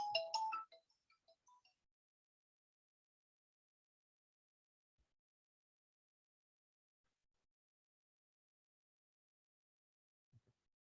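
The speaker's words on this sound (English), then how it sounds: "Why isn't my phone getting silenced?" A mobile phone ringtone chirps for about a second at the start: a short, bright burst of tones that cuts off abruptly. Near silence follows, broken only by a couple of faint clicks.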